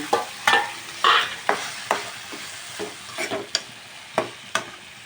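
Cucumber pieces cooking in a hot pan, soft continuous sizzling with repeated scraping and tapping of a spoon as they are stirred, close up.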